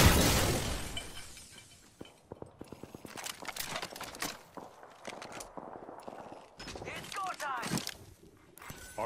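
A cargo bot shot and shattering in the Apex Legends battle royale game, with a loud crash up front followed by scattered clattering, rapid gunfire bursts and debris tinkles amid ongoing game noise and voice chatter.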